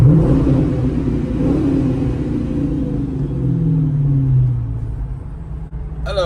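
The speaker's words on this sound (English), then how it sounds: "Let's do a rev under the overpass here." A Chrysler 300 S with a 5.7 Hemi V8 and MagnaFlow exhaust rumbles loudly beneath a highway overpass, its deep exhaust note swelling and falling in a steady rev before easing off near the end.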